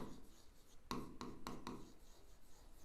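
Handwriting with a pen on paper while filling in an accounting subsidiary book entry, heard as faint scratching followed by a few short, distinct strokes near the mic.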